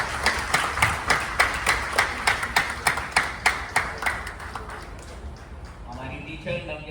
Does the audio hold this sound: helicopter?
no